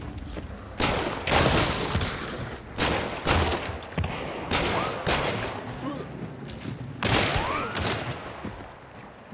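Carbine fire in a video game, loud bursts of shots in quick succession, several volleys spread across the moment with short pauses between them.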